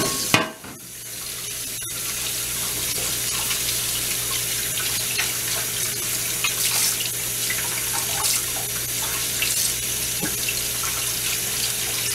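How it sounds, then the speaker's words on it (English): Cold tap water runs steadily into a kitchen sink, rinsing drained shrimp for a Cajun dish, a continuous close splashing stream with faint clinks and no talking. "Now we're going to rinse them with cold water."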